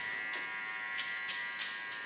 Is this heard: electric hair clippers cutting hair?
yes